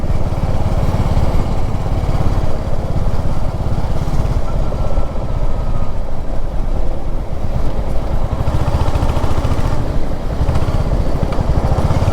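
A Hunter 350 motorcycle engine thrums as the bike rides through the oversize-vehicle lane of the Milan Nagar toll plaza on the Kolaghat–Haldia NH 116. The exhaust note is loud and close, with steady low pulsing and a slight drop in revs midway.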